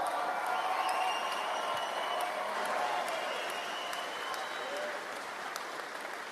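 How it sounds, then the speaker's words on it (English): A crowd at a political rally in Windsor, Ontario, applauds and cheers steadily throughout. A voice is heard over the clapping. "Gentlemen, ladies and gentlemen, please, round of applause for Karl Lovett"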